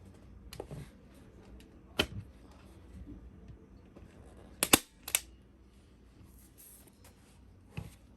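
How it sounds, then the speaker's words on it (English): Upholstery fabric is stapled onto a boat barstool seat with sharp, sparse clicks and snaps, one near-double burst in the middle, over quiet handling noise. "So I will pull this section up and staple that."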